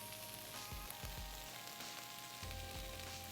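Garlic sizzling and frying in a pan for adobo, a soft steady crackle with a few low stirring bumps, faint and heard alone.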